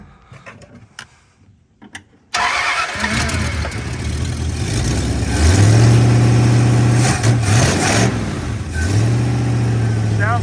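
Carbureted V8 engine cranking over after a short quiet stretch, then catching and running loud and steady close by, with several revs rising and falling above the idle.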